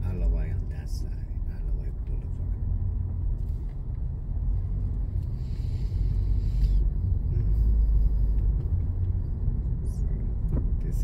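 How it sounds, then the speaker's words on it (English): Morning traffic jam on Ala Wai Blvd in Waikiki, Honolulu, heard from inside a car: a steady low engine and road rumble with passing vehicles, brief hisses and small clatters, swelling slightly toward the end. "This morning traffic jam on Ala Wai Blvd."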